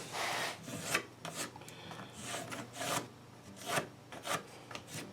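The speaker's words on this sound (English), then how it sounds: "now I want to trace out this pattern on my plywood" A pencil traces a pattern onto plywood, giving close, irregular scratchy rubbing strokes of varying length with short pauses between them and no talk.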